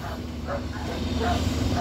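Faint dog barks repeat a few times in the distance beneath a steady broadband rumble of outdoor noise.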